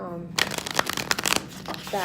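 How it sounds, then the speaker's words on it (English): Tarot or oracle cards are shuffled by hand in a string of quick, close papery riffles and flutters lasting about two seconds, with a short pause partway through. "I just wanted to put that out there to give the energy into the cards as I shuffle"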